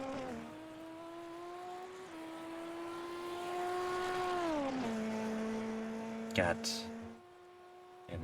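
ABN Hyper Formula race car on track at Elkhart Lake, a loud, high engine whine that holds, steps up through the gears, then falls off as it lifts, under a commentator's voice.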